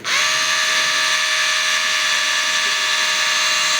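A Dongcheng DCZC13 cordless rotary hammer drill whirs continuously at high speed, a steady loud motor whine with no pauses.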